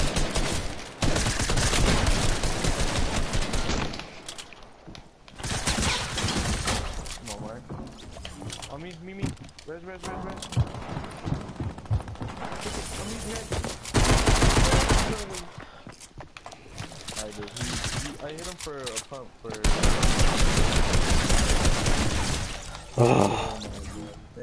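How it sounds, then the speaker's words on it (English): Rapid gunfire bursts and single heavy shots during a Fortnite-style video game shootout, a pump shotgun and an SMG firing from above, loud and repeated across the scene while a player talks excitedly over much of it. "Oh my god, his buddy's shooting from above."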